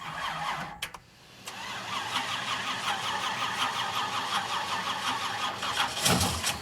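A barn-find Pontiac Firebird engine cranks with a short starter whir, briefly stumbles, then catches and settles into a steady, close rumbling run with a small rev near the end, no talk over it.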